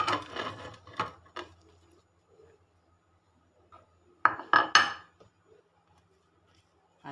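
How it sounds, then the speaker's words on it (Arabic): Fried vegetables for an oven moussaka are tipped into a tagine dish in a kitchen, giving two bursts of clattering utensil and dish knocks with scraping, quiet between them and no talking. "انا هاخد كله بقى وانزله في الطاجن هنا"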